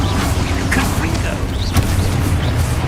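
A Confringo fire-blast spell explodes in Hogwarts Legacy, a loud booming blast buried in dense, continuous combat noise with one sharper impact midway.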